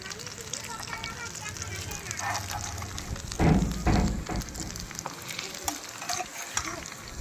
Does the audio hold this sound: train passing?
no